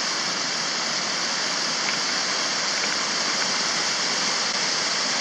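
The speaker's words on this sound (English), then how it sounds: "You can see here we have very nice waterfalls" A waterfall flowing over green moss pours steadily on Pollett's Cove, Cape Breton, Nova Scotia, a dense, even rushing roar of water that stays constant throughout with no pauses.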